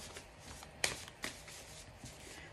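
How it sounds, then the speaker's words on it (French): Oracle cards being shuffled by hand, with soft close riffling and two sharp snaps near the middle. "alors on va bien mélanger l'oracle"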